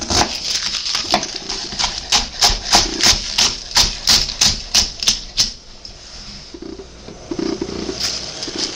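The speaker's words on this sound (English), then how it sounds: "Then you just slice it, and then you get a nice medium dice." A knife dices vegetables on a cutting board in a home kitchen while ramen is being prepared, giving a fast run of about twenty sharp, close chopping taps, then a pause and a few softer cuts.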